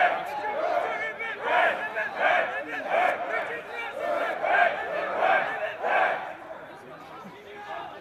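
Youth rugby teams from Oregon/Stoughton and Southern Lakes cheer each other at the end of a match, a crowd of boys' voices shouting in rhythmic bursts of group chants, close and loud throughout.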